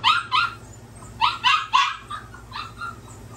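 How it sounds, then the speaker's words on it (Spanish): A small dog barks repeatedly indoors, a series of sharp yaps in uneven bursts, fairly close, over a steady low hum. "Y discúlpenme a mi perrito."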